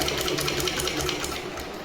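A sewing machine stitches a folded skirt belt in one steady, continuous run of rapid mechanical whirring and needle chatter, loud and close, with no voices.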